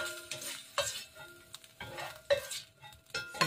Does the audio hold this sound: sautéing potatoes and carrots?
yes